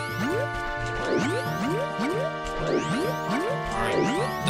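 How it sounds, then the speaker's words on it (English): Water poured onto a plant in Zelda: Majora's Mask, a game sound of repeated bubbly rising gurgles and droplet plips that loop steadily over a constant tonal backdrop, close and clear. "now that I got the water, we can go ahead and water the plant"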